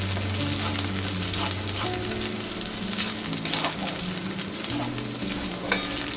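Spices sizzling and frying in hot oil in a pan for a coconut potato curry, a continuous crackling hiss with occasional stirring scrapes, close up and steady, with a low hum underneath.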